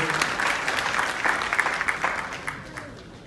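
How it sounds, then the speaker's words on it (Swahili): Conference audience at the TDC Global Kongamano applauding a presenter, a dense burst of many hands clapping that holds steady and then thins out toward the end, with a few louder individual claps. "Makofi kwake tafadhali"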